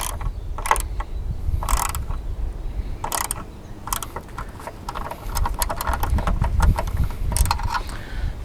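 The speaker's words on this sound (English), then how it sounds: "this is the point where we are going to tighten down the bottom bracket" Ratchet wrench tightening the bottom bracket bolt on a Jeep, heard as a series of quick clicking bursts close by at irregular intervals over a low background rumble.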